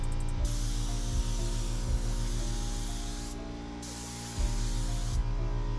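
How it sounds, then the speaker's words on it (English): A spray gun sprays clear coat in two long steady hissing bursts with a short pause between, close and loud over a low humming mechanical drone with a faint regular ticking. "adjusting the gun for the clear coat"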